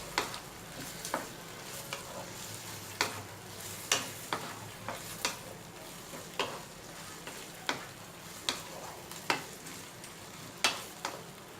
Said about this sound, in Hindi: चिल्ली सॉस, नमक, तमाम चीज़ें मिक्स करके 1-2 मिनट पका लें इसको मज़ीद।